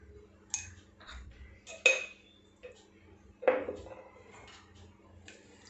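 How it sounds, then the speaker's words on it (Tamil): A spoon scrapes and clinks against a pot while prawn biryani is stirred, giving several distinct metallic knocks and scrapes at an uneven pace, with one loud clank near the start, close up and with no talk. "நல்லா கிளறி விட்டுக்கோங்க."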